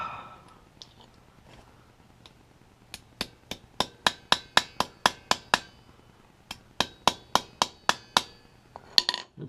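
Sharp, bright metallic taps of a small hammer striking a Hot Wheels Redline die-cast car axle, struck in two quick, evenly spaced runs of about a dozen blows each, close and fairly light.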